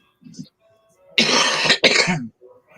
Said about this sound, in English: that cough don't sound good